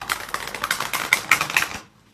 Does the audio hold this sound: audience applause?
no